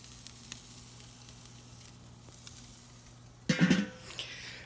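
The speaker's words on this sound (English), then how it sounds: "Just out here cooking a steak" A steak cooks outdoors with a faint, soft sizzle under a quiet background, then a sudden louder burst of crackling and hissing near the end.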